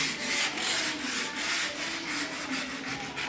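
Rust being rubbed off a collapsible metal gate, rapid rhythmic scraping strokes close by, steady and unbroken over a few seconds, with no voices.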